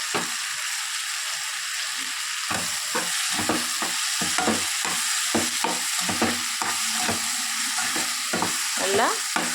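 Sliced bitter gourd sautéing with softened onion and tomato in a pan, a steady hiss of frying under repeated scraping stirs of a spoon against the pan, close and fairly loud throughout.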